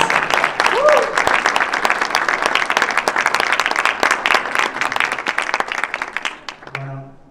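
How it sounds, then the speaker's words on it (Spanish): Sustained applause from a conference audience welcoming a guest speaker at a dietetics expo, dense clapping for about six seconds before tapering off abruptly near the end. "Con un fuerte aplauso le damos la bienvenida al licenciado Piñeiro entonces"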